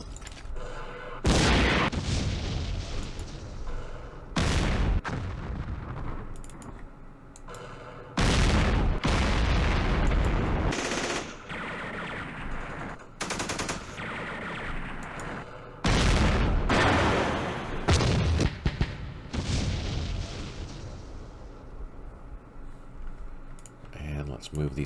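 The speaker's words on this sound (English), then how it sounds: "Fire with all of our tanks." Tanks firing in the Vietnam war game Campaign Series Vietnam during the Battle of Hue: repeated loud booming blasts in irregular bursts, close, with clicking between them and someone talking.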